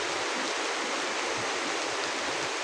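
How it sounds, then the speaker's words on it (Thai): Rainwater flowing during a downpour on the last day of a rice harvest, soaking everything. A steady, close hiss of running water, even and unbroken, with no voices. "นี่น้ำไหล"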